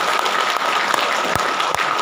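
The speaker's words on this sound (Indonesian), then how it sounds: "Boleh tepuk tangan untuk kita semua." Audience applause at a teachers' seminar on 21st-century learning, a steady dense wash of clapping filling the short stretch with a few sharper individual claps standing out.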